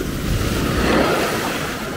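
Storm-driven Atlantic surf at Maspalomas, Gran Canaria, rushing and breaking against the edge of a shoreline walkway; a steady broadband roar of waves mixed with wind buffeting the microphone, continuous and fairly loud, with no voices.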